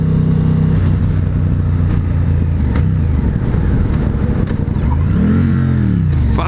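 A motorcycle engine revs hard in first gear during a failed wheelie attempt, a loud close roar that holds steady and then climbs in pitch near the end.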